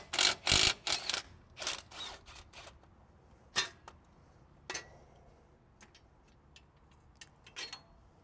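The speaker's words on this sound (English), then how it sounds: "Now you're going to want to go in and undo these bolts." A wrench or ratchet loosens 12-point axle bolts during a car repair, giving sharp clicks and ticks that come in a fast burst at first, then turn into sparse single taps, all close and fairly quiet.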